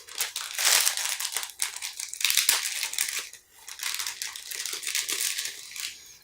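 A plastic resealable bag from a Platz 1:12 bonsai model kit is handled and opened, giving close, continuous crinkling and rustling with a short pause midway.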